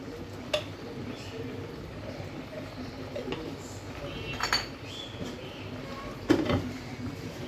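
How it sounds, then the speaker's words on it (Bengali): A metal lid clinks onto a pot of Hilsa fish head and tail curry with Malabar spinach: a couple of faint, sharp clinks stand out over a quiet kitchen background, with light cookware rattles between. "এখন এটা আমি ঢাকনা দিয়ে ঢেকে দিব"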